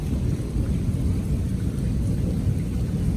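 Heavy rain in Lahore pours down steadily in a dense, loud roar with no voices, a constant wash of water.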